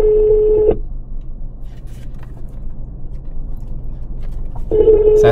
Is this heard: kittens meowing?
no